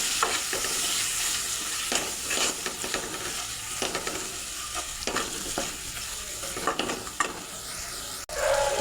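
Chicken pieces for haleem are stirred with spices in a hot pan, giving a steady loud sizzle broken by repeated scraping strokes of a spoon against the pan, with no voices.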